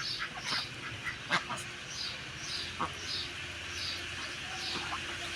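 Ducks quack intermittently in the background at a duck coop, several short calls scattered over steady outdoor ambience, fairly distant and soft.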